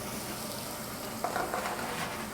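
Pancetta and garlic browning over medium heat in a pan, giving a continuous close sizzle and crackle with a few brief stirring scrapes partway through.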